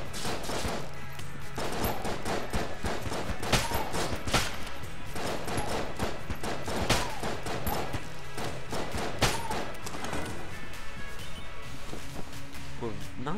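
Repeated gunfire from the bullet gun in the roguelike shooter Enter the Gungeon, a dense run of sharp cracks and pops with heavier thuds in places, continuing steadily under a voice.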